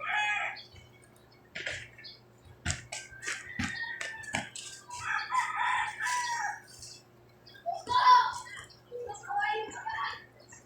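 Rooster crowing nearby, with short clucks and bursts of fowl calls spread across the clip, alongside a few sharp clicks and a low steady hum.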